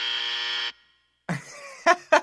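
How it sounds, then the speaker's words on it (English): A game show buzzer blares loud and steady for about half a second, then cuts to silence before brief, separate sounds follow. "You're going to hear a buzzer that sounds like this."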